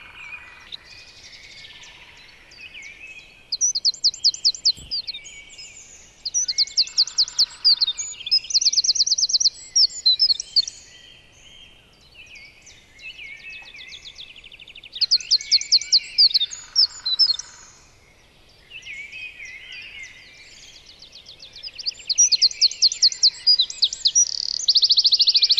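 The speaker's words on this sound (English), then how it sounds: "Then a very small singer with a massive voice enters the stage, the Eurasian wren." Eurasian wren in the woods sings loud, rapid trilling phrases in several bursts, each a fast cascade of high notes with short pauses between, clear and close against a quiet background.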